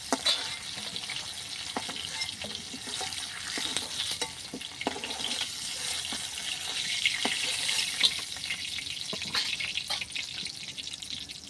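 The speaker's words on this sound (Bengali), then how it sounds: "আমি খুব হালকাভাবেই মাছগুলো ভেজে নিয়ে তুলে নিচ্ছি" Freshly caught snakehead fish shallow-frying lightly in a pan, a soft continuous sizzle with scattered crackles and light stirring or watery spatters throughout, fairly quiet and close.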